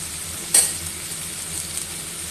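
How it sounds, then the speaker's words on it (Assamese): Taro stems frying in a pan with turmeric, giving a steady soft sizzle and a single brief sharp scrape of stirring early on, then a continuous low crackle with no talking. "এইদৰে মই এই কচু বাওখিনি অলপ ধুনীয়াকৈ ভাজি ল'ম"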